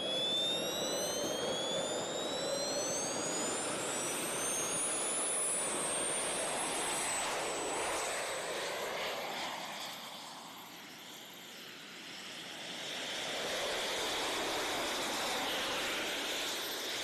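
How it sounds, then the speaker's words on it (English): A jet suit flying with its jet engines roaring, a loud continuous rushing whine that dips briefly mid-clip and then swells again, with no talking. "I wanted to see how a real-life jet suit pilot flies around,"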